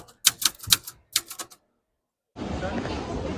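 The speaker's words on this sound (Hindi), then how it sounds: "पूरा किसी टाइपराइटर से लिख के इन्होंने दिया" A typewriter clacks through a quick burst of sharp keystrokes, falls silent for a moment, then is followed by a steady wash of broadband noise.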